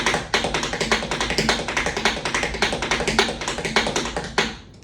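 Tap shoes strike a hard floor in quick repeated dig, brush, step patterns, a fast even run of crisp close taps filling the whole stretch before stopping.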